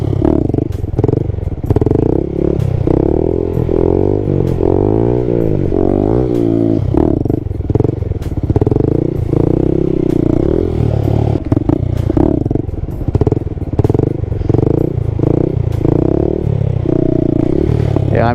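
A Honda Grom motorcycle riding wheelies on a wet surface: the small engine revs and surges up and down continuously at close range, loud, with clattering and rising-falling pitch as the throttle is worked.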